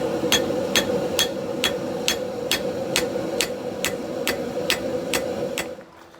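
Hammer striking cable Damascus steel on an anvil to forge a bevel, a dozen evenly spaced metallic blows in a steady rhythm over a constant low background hum, close and clear.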